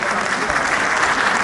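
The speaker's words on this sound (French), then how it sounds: "on peut l'applaudir encore bien fort s'il vous plaît" A conference audience at an African diaspora event in France claps hard and steadily for a woman who has just spoken, the dense applause filling the room at close range without a break.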